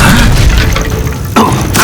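A loud, close magical impact with a deep boom from the Incendio fire spell cast in Hogwarts Legacy, followed by a second burst near the end.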